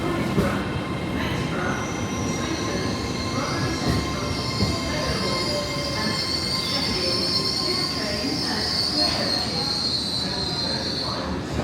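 A two-unit, ten-car Azuma train running between Doncaster and Newcastle on a Monday morning, its wheels giving a steady high, piercing squeal over a constant rumble heard from inside the carriage, with no talk.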